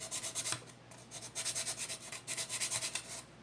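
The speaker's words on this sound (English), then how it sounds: "I'll sand that a bit, just rounding off that edge." Sandpaper rubbed by hand along the edge of a wooden Native American style flute, rounding it off in rhythmic back-and-forth strokes, close and fairly quiet, with no talk.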